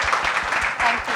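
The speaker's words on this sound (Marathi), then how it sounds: "त्यासाठी त्यांच्यासाठी जोरदार टाळ्या होऊ दे." An audience at a Marathi film song launch event applauds in a short, steady burst of clapping.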